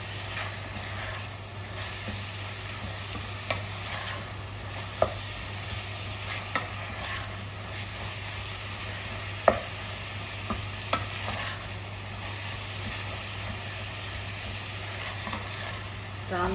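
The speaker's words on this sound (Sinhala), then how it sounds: "මෙන්න මේ විදිහට තෙල් වල හොඳට මේක ටෙම්පරාදු වෙන්න ඕනේ." Ingredients for seeni sambola, including curry leaves, sizzle and fry steadily as they temper in hot oil, a continuous close hiss broken by occasional clicks and stirring knocks, with quiet talk in the background.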